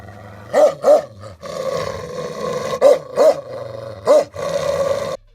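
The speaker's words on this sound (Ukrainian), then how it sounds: "Не саме приємне звучання, але зато почують усі, навіть глухі. Знайомтесь, це туркменський алабай" A Turkmen Alabai, a large livestock guardian dog, gives several deep, loud barks in two bursts, with a rumbling growl held between them, all close and with no talk.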